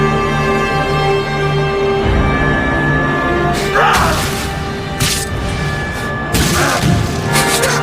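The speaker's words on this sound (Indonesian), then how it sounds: "efek ledakan bom dari musuh" Bomb explosions in the Samurai X film, several heavy booms and crashing bursts landing a second or two apart over a steady droning backdrop.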